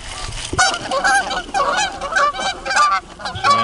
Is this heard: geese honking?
yes